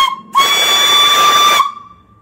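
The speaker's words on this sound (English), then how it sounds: "Whistle works good. Turn down your volume." A brass steam whistle on a live steam boiler gives one loud, steady shriek lasting just over a second, starting abruptly and cutting off cleanly with a hissy tail.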